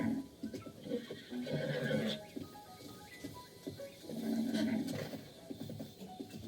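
Repeated horse whinnies and snorts come in bursts in The Legend of Zelda: Breath of the Wild, with soft hoof clopping and faint game background sounds throughout.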